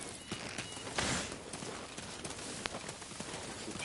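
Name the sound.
horse hooves galloping in video game Dynasty Warriors 9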